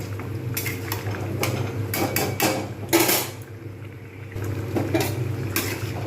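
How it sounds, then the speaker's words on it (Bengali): A spoon scrapes and clatters against a pot while shyama grain khichdi with potato and pointed gourd is stirred, giving repeated close metallic knocks over a low steady hum, with no talking. "এবার আমি এর মধ্যে যে শ্যামা দানাটা রেখে দিয়েছিলাম এইটা কিন্তু দিয়ে দেবো বেশ কিছুক্ষণ এবার নাড়বো"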